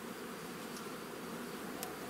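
A dense, even drone of many honeybees fills the air right at an open hive, steady and unbroken, with no voices.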